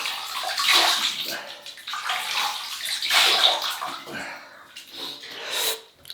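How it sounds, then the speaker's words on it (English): Water splashes and sloshes as a face is wetted before a shave with a Lord L6 DE razor, in close, repeated bursts of wet splashing with no talk. "So we'll wet the face and we'll get going."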